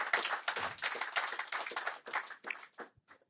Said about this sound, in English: Another round of applause for Professor Adedipe.